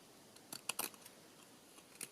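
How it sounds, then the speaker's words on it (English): Scissors snip a small piece of lace in a few quick, faint cuts, close by in a quiet room, with brief pauses between the snips. "I'll just trim that little bit of lace"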